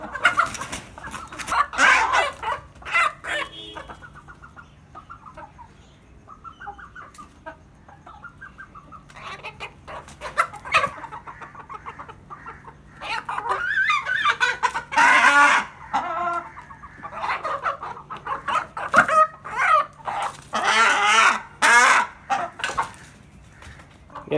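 Aseel hens cluck in irregular close bursts, with some sharper squawks among them and quieter gaps between, and no talking.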